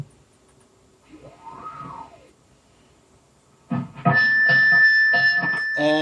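A Jackson DK2 electric guitar with distortion: a single bending, swooping note first, then louder crunchy notes ringing out close up.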